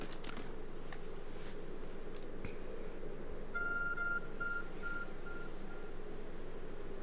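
Arc Phone beeping in the Pokemon Legends: Arceus video game, a short series of faint electronic beeps repeating in a steady rhythm midway through, over quiet background noise.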